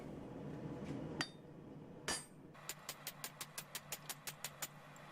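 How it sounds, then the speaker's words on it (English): Blacksmith forging: after a couple of heavy clanks against a low engine-like hum, a hammer strikes metal in a steady run of about a dozen sharp, evenly spaced ringing blows, close by and with no talk. "A lot of just hitting the hammer and dropping it a whole lot."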